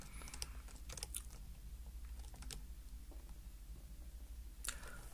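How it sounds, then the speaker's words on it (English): Fast, light clicks of a computer keyboard as a command is typed in a Linux terminal, with quick irregular keystrokes over a low steady hum, close and fairly soft. "So we'll go ahead and type this command, sudo apt-get install mplayer,"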